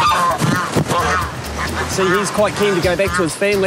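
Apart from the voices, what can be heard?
geese honking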